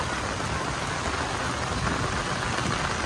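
Heavy monsoon rain pours down in Kotdwar, a steady, dense hiss of drops drumming on surfaces, fairly close and even throughout with no voices.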